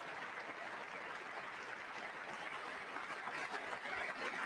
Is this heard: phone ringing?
no